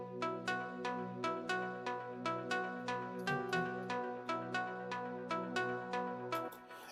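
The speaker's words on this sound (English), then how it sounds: "a nice melody, which is a plug from Hype as well, which is a detuned metallic lead" Detuned metallic lead synth from the Hype plugin playing a bright plucky melody alone, about twenty evenly spaced notes with sharp attacks and short decays over a held low tone, steady moderate level.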